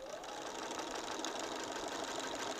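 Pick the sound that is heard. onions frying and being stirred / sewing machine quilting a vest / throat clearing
sewing machine quilting a vest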